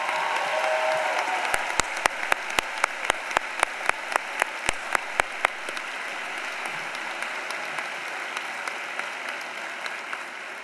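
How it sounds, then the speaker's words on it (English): A commencement crowd in a large hall gives sustained applause for faculty and staff, a broad steady wash of clapping with a run of sharp, close single claps standing out in a regular rhythm. "Let's give them a round of applause."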